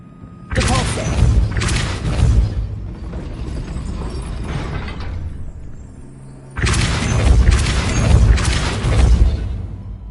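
Depulso repelling spell cast in the Hogwarts Legacy video game, heard as two loud, heavy booming thuds, each a sustained rumbling burst lasting a few seconds, separated by a short quieter gap.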